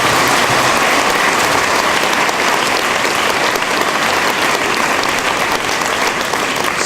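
A church congregation claps during a Sunday Lent homily, a loud, sustained, even wash of applause from many hands that fills the whole space without pause.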